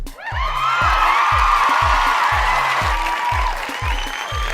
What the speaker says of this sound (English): Give a round of applause for our third contestant, Pocahontas.